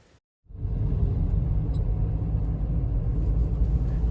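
A car drives into Odesa, Ukraine, its engine and road noise making a steady low rumble that starts abruptly after a brief silence and holds constant.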